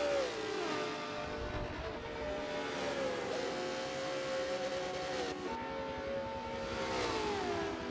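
A Ferrari and a Huracan race cars passing on the track at a motorsport heritage festival, engine notes rising and falling with gear changes, sustained and moderately distant.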